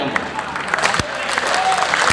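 Applause rises from the audience at a Hindi poetry recital in Kanpur, a dense, close wash of clapping with voices mixed in throughout.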